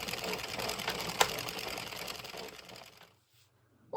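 An Addi 46-needle knitting machine cranks rows with a steady mechanical whirring and clicking, with one sharper clack midway, before falling silent and starting again.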